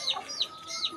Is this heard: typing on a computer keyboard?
no